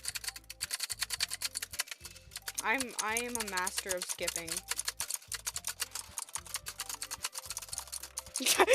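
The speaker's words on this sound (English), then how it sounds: "Intense keyboard clicking." Loud computer keyboard clicking runs in a steady, fast stream of close keystrokes throughout, with a person speaking briefly over it midway.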